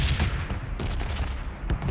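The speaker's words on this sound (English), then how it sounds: "Oh, gunshots." Gunfire in the video game PUBG, a rapid run of loud sharp shots and bursts cracking repeatedly in quick succession.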